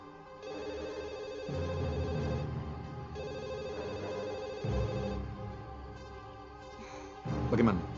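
A telephone rings repeatedly during an unanswered call, with intermittent ring bursts and a louder ring near the end, heard under people talking.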